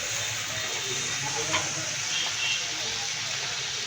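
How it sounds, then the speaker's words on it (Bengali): Leafy greens (shak) frying in hot oil in a pan, a steady even hiss and crackle with a couple of faint clinks, moderately loud and close, no talking. "এখন শাকটা আমি ভেজে নিব।"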